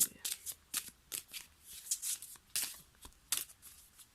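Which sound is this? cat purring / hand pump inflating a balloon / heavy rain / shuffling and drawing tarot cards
shuffling and drawing tarot cards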